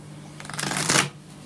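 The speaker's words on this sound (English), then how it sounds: "I will just give the deck a shuffle." A deck of playing cards shuffled once, a brief close riffle and rustle that swells and fades within about a second, with no talking.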